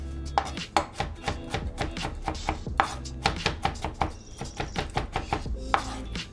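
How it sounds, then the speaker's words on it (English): A knife mincing radish on a cutting board, with rapid, close, sharp chopping taps repeating in an uneven rhythm throughout, no voices. "now for this radish, I am gonna mince it up pretty small"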